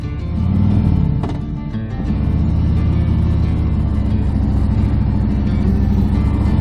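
A three-wheel motorcycle engine rumbles loudly up close, revving briefly as it sets off, then settling into a steady droning ride with no talk.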